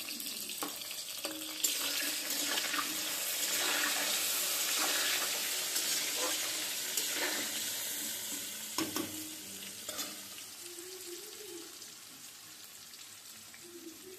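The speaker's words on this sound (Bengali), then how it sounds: "একটু হলুদ আর লবণ দিয়ে ভালো করে ভেজে নেব।" Meat frying in a pan with turmeric and salt gives a moderate sizzle under repeated stirring scrapes and clinks, continuous throughout and fading slightly toward the end.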